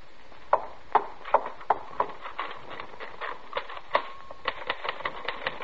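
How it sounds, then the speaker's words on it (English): A typewriter clatters steadily in a radio drama sound effect, with crisp, evenly paced keystrokes and a brief ringing tone partway through, quiet and alone. "Then I was back at my typewriter and everything was fine."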